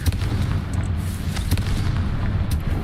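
A Confringo fire spell blasts in the Hogwarts Legacy video game, a dense, rumbling explosive burst with sharp crackles over steady low roaring noise, loud and close, with no talking.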